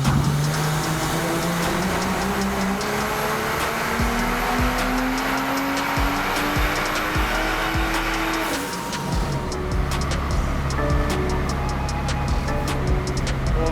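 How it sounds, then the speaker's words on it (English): BMW F30 on a dyno, engine revving hard and rising steadily in pitch for about eight seconds, then cutting off abruptly before idling and settling, loud and close with no talk. "Let's get the car on the dyno and start the session."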